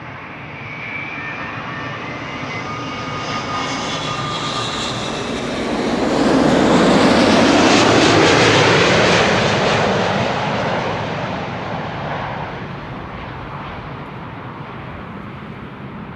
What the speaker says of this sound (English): This is Delta Airlines Flight 162, arriving from Minneapolis, Minnesota.